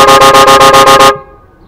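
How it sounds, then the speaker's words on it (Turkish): A car horn wired through an interrupter relay blares loudly in rapid, even pulses, about eight quick beeps chopped on and off, then stops and leaves a faint hum. "Şimdi kornaya basıyorum."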